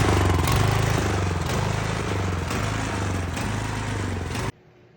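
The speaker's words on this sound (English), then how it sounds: "You got a snowblower that's surging" A surging snowblower engine with a lean-running carburetor roars loud and steady up close, its pitch wavering slightly, then cuts off abruptly near the end, leaving near silence.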